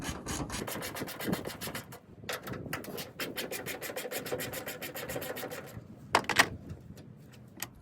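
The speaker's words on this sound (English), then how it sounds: "going to take an 8mm, remove both these fasteners" A ratchet with an 8mm socket backs out two fasteners from a Ford F150 tail light, a rapid clicking rasp repeated in quick bursts, close and fairly quiet, with a couple of sharper knocks near the end.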